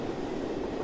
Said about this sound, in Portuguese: Mas peraí o trem.